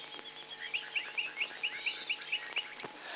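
Sociable weavers calling near their communal nests in the Kalahari, a rapid regular series of about nine bright chirps over a steady background hum from an old documentary recording.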